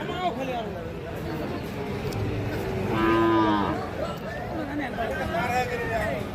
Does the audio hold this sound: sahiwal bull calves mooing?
yes